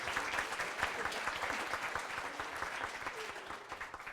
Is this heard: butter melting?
no